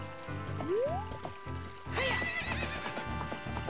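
Horse from The Legend of Zelda: Ocarina of Time neighs once with a rising whinny, then hooves clip-clop steadily under game music and splashing water sounds.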